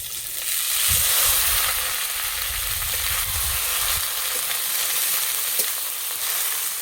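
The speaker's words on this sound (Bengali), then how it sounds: "এবার দেবো থেতো করা রসুন, রসুন ভাজা হয়ে গেছে, বা পাতা বাটাটা দিয়ে দেব।" Crushed garlic and bottle gourd leaf paste fry in a pan with a steady, close, continuous sizzle, joined by a few soft stirring scrapes and no talking.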